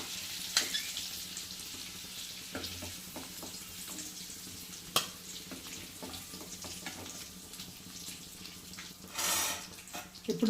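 Dried red chillies and blended onion paste sizzle in hot oil in a pan for a liver curry, a soft continuous frying hiss broken by a few clinks and a louder sputter near the end.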